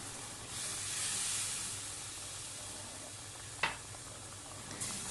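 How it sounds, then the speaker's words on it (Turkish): Cold milk poured into hot semolina and sugar in a pot, a steady broad sizzle and hiss of steam and bubbling, with a couple of sharp stirring clicks near the end. "Zaten irmik sıcak olduğu için hemen fokurdamaya başladı"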